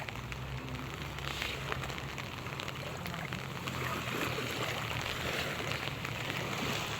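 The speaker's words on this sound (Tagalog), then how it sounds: "Anak na ulan." Heavy rain pours steadily onto a surface outdoors, with a dense, continuous hiss and patter that never lets up, fairly loud and with no voices.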